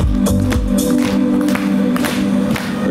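An audience claps along during live singing, with rhythmic hand claps over a sustained musical backing and a crowd murmur beneath.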